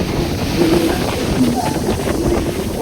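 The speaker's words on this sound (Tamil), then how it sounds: "இவ்வளோ காற்று" Strong wind on the beach at Dhanushkodi, with gusts buffeting the microphone and a low roar over the surf behind it. The blowing is loud and continuous throughout.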